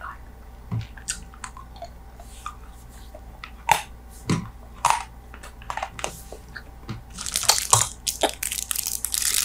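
Big League Chew gum balls being chewed close up in an ASMR setting, with irregular wet crunches and smacks scattered through the clip, growing busier and louder toward the end, with no talking.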